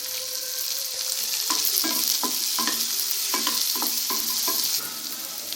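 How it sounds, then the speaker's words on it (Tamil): Tomatoes sizzle and fry in a pan as a spoon scrapes and stirs them in a series of short strokes, close and steady with no talking. "இதில் நம்ம தக்காளி பழத்தை போட்டுக்கலாம். இதையும் சேர்த்து வதக்கிக்கலாம்."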